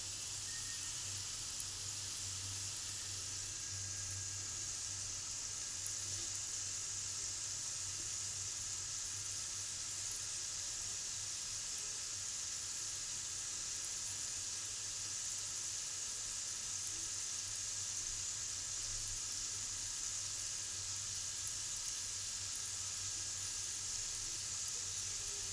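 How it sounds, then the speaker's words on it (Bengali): Food frying in RCM rice oil gives a steady, even sizzle that holds at a moderate level throughout, with no talking. "ভাজাটা করছি আমাদের আরসিএমের রাইস অয়েল দিয়ে।"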